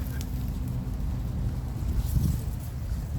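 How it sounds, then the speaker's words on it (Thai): Cold wind blows outdoors, a steady low rumbling buffet against the microphone that swells briefly near the end, heard alone without talk. "ลมหนาวมากแล้วครับ"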